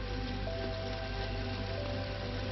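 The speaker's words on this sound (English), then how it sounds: "Yes, it is hailing on the first day of summer." Hail pelting down at a campground on the first day of summer, a steady dense patter of ice striking surfaces close by, continuous and unbroken with no voices.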